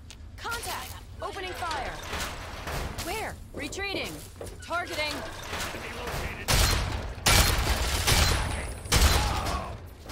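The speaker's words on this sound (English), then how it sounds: "Oh, it's just a minigun." Minigun fire in the Fallout 3 game, delivered in several loud sustained bursts, heaviest toward the end, with someone talking over the shooting.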